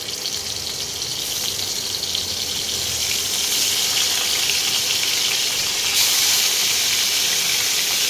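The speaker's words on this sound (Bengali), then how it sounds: "তেলটা গরম হয়ে গেছে, এবার আমি মাছগুলোকে আস্তে আস্তে ছেড়ে দিচ্ছি।" Fish dropped into hot oil gives a loud, continuous hiss of sizzling that grows stronger partway through and stays steady, with no voices.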